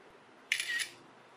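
A single iPhone 4S camera shutter click on iOS 6, a short bright snap lasting about a third of a second, close and clear over a quiet background.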